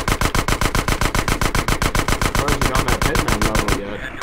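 Rapid automatic gunfire from Grand Theft Auto San Andreas rattles in a fast, even stream of loud shots, then cuts off abruptly near the end.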